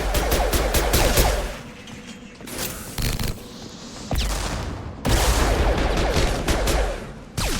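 Shotgun blasts in the sci-fi shooter game Mass Effect 2 arrive in loud, close bursts, each followed by mechanical clacks and a gap before the next volley.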